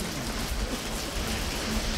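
Steady rain patters on a surface, a dense continuous hiss of drops heard up close, with no voices.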